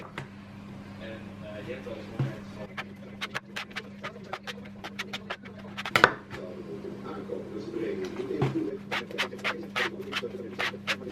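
Donut dough with added vegetable oil is mixed in a bowl, giving irregular tapping and scraping strokes over a low steady hum, while a person talks intermittently.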